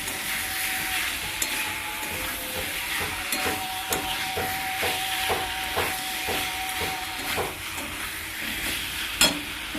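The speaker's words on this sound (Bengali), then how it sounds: "কষিয়ে নিচ্ছি।" Ingredients sautéed with spice paste in a pan, a continuous sizzle and hiss under a run of regular scraping stirs at a fairly even pace, with no talking.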